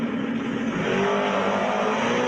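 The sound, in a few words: small-block all-motor G-body car engine revving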